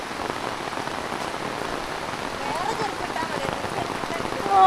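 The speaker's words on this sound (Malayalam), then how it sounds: "അമ്മയ്ക്ക് അടിപൊളി തകർപ്പൻ മഴ, തകർപ്പൻ." Heavy rain pours down in a steady, dense hiss of drops pattering on surfaces all around, even and unbroken, with a faint voice briefly at the very end.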